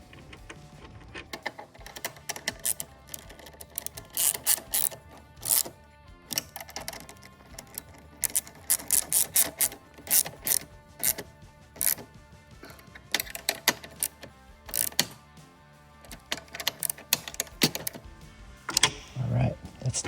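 Close mechanical ratcheting and clicking from a tool tightening 13 mm lock nuts onto bolts that fasten floorboards to a bracket, in irregular bursts with short pauses between them.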